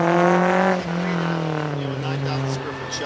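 A Ford race car at the Carlisle Ford Nationals track drives wide through an S turn, its loud engine roaring steadily close by with a shifting pitch, joined near the end by faint tire noise.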